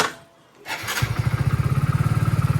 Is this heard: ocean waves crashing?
no